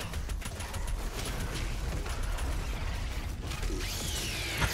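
A blood punch in the Doom Eternal video game lands with a dense, grinding mechanical crunch and clatter, loud and sustained throughout, with a brighter metallic sweep near the end.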